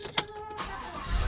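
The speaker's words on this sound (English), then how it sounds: "Coming to turn on the truck." On a snowy day, a truck engine turns over: a faint mechanical rustle, then a low engine rumble that builds toward the end of the brief moment.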